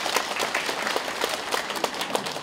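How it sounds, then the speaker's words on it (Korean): A small group claps in a brisk burst of applause at a parish lay gathering, distinct individual claps audible in a quick, uneven rhythm, fairly close and moderately loud, with no talking over it. "박수 좀"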